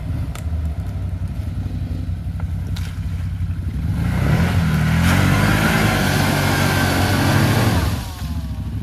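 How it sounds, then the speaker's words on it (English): CFMoto CForce 800XC ATV engine running close by, then revving hard for several seconds as the wheels spin in mud before easing back down. "wheel spin might have been a little excessive there"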